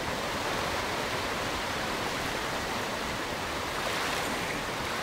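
Flowing creek water in a Bigfoot video game, an even, continuous rushing wash with no breaks or voices.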